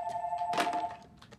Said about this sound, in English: I can't hear you. The phone's ringing.